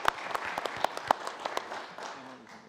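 A short burst of scattered hand claps from a small group, fairly quiet, trailing off after a couple of seconds.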